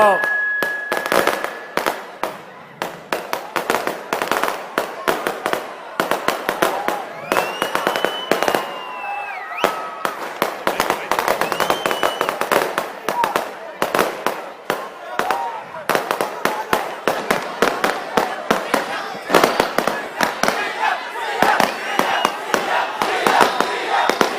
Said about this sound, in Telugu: తమ్ముడు క్రాకర్స్ ఎవరో కాలుస్తున్నారు, క్రాకర్స్ కాల్చొద్దండి ప్లీజ్.